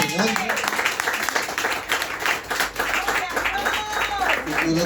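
A church congregation in Argentina claps and cheers loudly throughout, with voices shouting over the applause.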